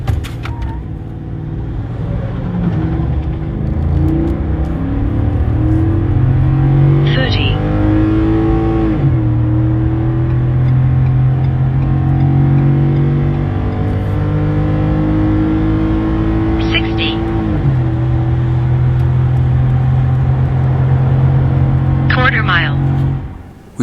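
A Ford F-150 pickup with the 5.0L Coyote V8 pulls a maximum towing load up a 6% grade, its engine droning loudly and steadily inside the cab with slow pitch shifts and a few faint chirps.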